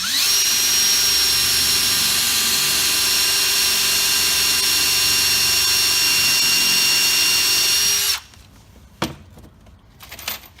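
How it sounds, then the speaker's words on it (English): A power drill runs loud and close for about eight seconds at a steady high whine while driving a screw into a pre-drilled hole, then stops, leaving a few sharp knocks and clatters. "I'm going to pre-drill a hole, put a screw in a hole"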